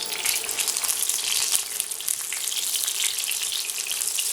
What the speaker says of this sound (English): right now we're frying on high heat